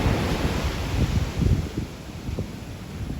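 Steady roar of surf with waves rolling and crashing, mixed with gusty wind buffeting the microphone; no voices.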